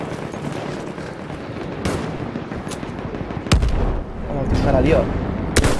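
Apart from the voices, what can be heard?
sniper rifle gunfire in the video game Battlefield 1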